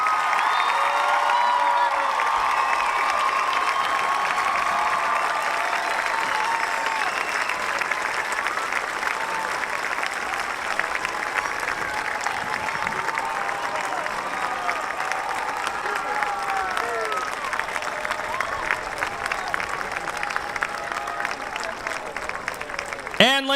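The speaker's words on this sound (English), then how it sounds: "will you please join me in another round of applause for the class of 2018?" A crowd at a high school commencement gives the graduating class a long, loud ovation of applause mixed with cheers and whoops. The clapping stays steady and dense throughout, with faint voices in the hall beneath it.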